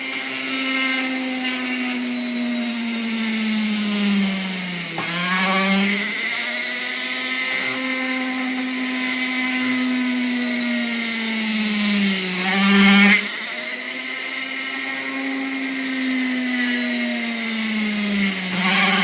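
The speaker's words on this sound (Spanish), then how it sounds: "conseguí una broca que hace el agujero exactamente del mismo diámetro que el tornillo" An electric drill bores holes in recycled wind turbine blades for a homemade generator, its motor whining at a high, steady pitch that dips and recovers twice as the bit bites into the material, close up with no talking.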